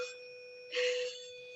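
A bell rings once with a bright, sustained metallic tone that swells briefly and then fades into a steady ringing hum, heard alone at moderate volume without talk.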